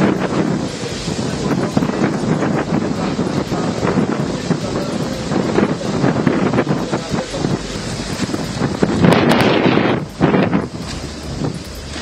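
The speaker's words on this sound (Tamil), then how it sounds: "பலத்த காற்றுடன் கனமழை பெய்தது." Strong wind with heavy rain batters the microphone in a continuous loud roar, with rough sea churning at Digha beach in Purba Medinipur; a faint voice may sit beneath the noise.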